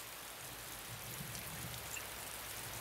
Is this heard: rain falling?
yes